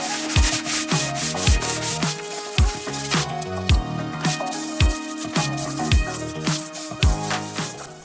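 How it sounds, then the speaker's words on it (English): Sanding scrapes steadily across a timber garage wall built from old pallets before painting, loud and close, with a regular back-and-forth rhythm and repeated thumping strokes. "The walls were sanded and painted gray, matching the interior color of the warehouse."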